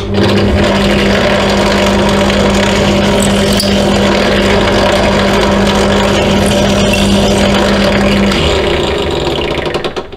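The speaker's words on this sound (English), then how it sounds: "run a, a cleaning drill through here" A power drill whirs steadily for several seconds at close range, running a cleaning bit through a propeller's hole, its motor holding a constant pitch before winding down at the end.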